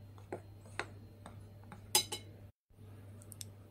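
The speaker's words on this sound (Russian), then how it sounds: "И вот эту вот нашу получившуюся смесь мы хорошенечко перемешиваем." A spoon stirs a mixture of starch and baking powder in a bowl, making light scattered clinks and taps against the bowl with one brighter clink near the middle, close and fairly soft, no talking.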